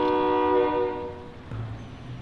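A train in Call of Duty Modern Warfare blares a sustained, harmonic horn for about a second and a half, then gives way to a low rumble of rolling wagons close by.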